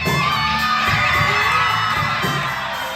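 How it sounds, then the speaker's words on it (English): A concert crowd cheers and whoops loudly and steadily during a live band's guitar lead, with shouts and yells blending into a dense, continuous roar over the music. "once they both started to play the lead, it was so cool for the crowd to start cheering"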